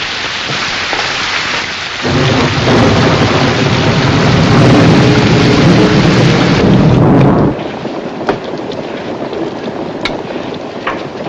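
Heavy storm rain pours down around a boat on a river, a steady loud wash that swells for several seconds before easing to a lighter patter with scattered drips; no clear thunder stands out.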